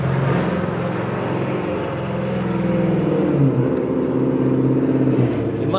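Car with a Whipple supercharger accelerating, a loud, close, continuous engine drone whose pitch rises and changes through a gear shift.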